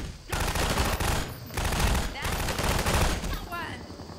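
Allied gunfire in Half-Life 2: rapid bursts of automatic shots close by in several rattling volleys with short gaps, loud and dense, with a voice talking over part of it.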